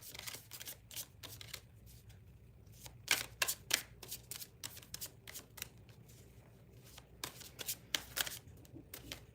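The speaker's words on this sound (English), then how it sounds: "I'm going to pull cards for you" Tarot cards shuffled in repeated bursts of crisp riffling and flicking, close and fairly quiet over a low steady hum, with short pauses between handfuls.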